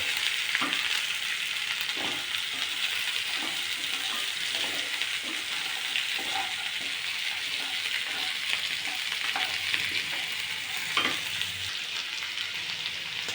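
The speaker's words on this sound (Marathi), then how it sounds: "आणि काजूसुद्धा यामध्येच टाकूया चांगलं परतून घेऊया" Cashews sautéing in a pan for Maharashtrian masale bhat, a steady soft sizzle with occasional spoon stirs and scrapes, close and continuous without talk.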